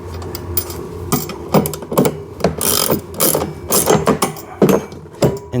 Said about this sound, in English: And then you want to tighten it down